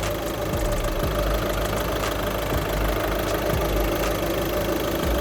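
A Volkswagen Golf's 1.6 turbodiesel engine idles steadily with a low, rattly diesel clatter and constant vibration, close up and continuous throughout.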